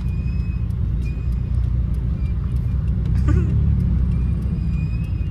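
City traffic on a road in Makati, a steady low rumble of car engines and tires close by, with faint high whines and brief chirps scattered through, no clear talk.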